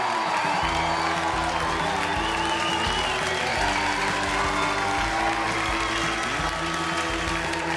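A studio audience at a televised comedy show applauds and cheers as comedian David Quirk takes the stage. The clapping is loud, dense and steady throughout, with scattered whoops over it.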